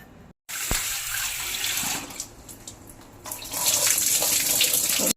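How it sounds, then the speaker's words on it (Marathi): Running water from a tap gushes into a container of flattened rice nearby, pausing briefly, then pouring stronger and fuller toward the end. "मी हे पोहे याच्यात भिजवून घेते म्हणजे तो तोपर्यंत ते भिजतील"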